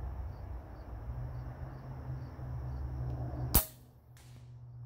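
A Hatsan Flash .25 air rifle fires a single 34-grain JSB pellet at about 830 fps outdoors, one sharp crack late in an otherwise quiet stretch, followed by a faint distant pellet impact, with insects chirping softly in the background.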